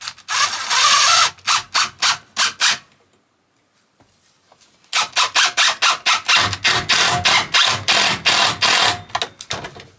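Screws drive into the wooden stud wall of a campervan shower in a self-built MAN TGE van, heard as loud, close bursts of rhythmic rasping and creaking strokes, with a pause of near silence midway.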